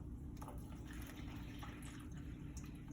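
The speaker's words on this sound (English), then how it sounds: "We'll go ahead and pour water into there." Water poured into a small red cup, filling it nearly to the brim: a steady close-up trickle and splash running throughout.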